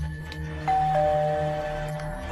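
A doorbell at the gate of a residence rings with a single two-tone chime that rings out clearly, with the tone lingering over a low steady background hum.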